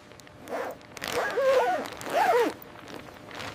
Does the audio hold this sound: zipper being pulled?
yes